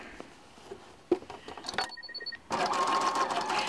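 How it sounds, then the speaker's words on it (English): Sewing machine stitching back and forth across the bottom of a dress bodice, running in short bursts with pauses and then a steady, louder continuous whir near the microphone. "we're going to sew back and forth across at the bottom and then back up the other side"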